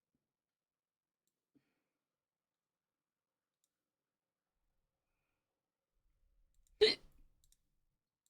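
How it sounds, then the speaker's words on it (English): A single sharp hiccup from a person, a short, close, clicking catch of breath standing alone in near silence, followed by faint breathy traces. "Why do I have hiccups now?"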